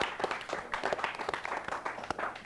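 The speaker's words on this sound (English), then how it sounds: "you guys deserve a big round of applause for your efforts" Studio audience applause for the finalists of an academic quiz bowl show, a steady wash of many hands clapping at moderate level with a few sharper individual claps standing out.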